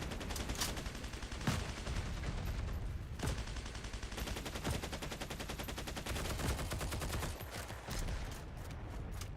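Rapid gunfire in the video game Heroes & Generals, sustained automatic bursts rattling almost continuously, punctuated by a few louder single shots, loud and close throughout.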